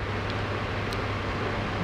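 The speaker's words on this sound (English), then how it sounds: "That's this fan over here, keeping things nice and cool for my beautiful plants over here." An indoor fan cooling plants beside a hydroponic grow system whirs as a steady, loud broadband rush with a low hum beneath, unbroken and alone.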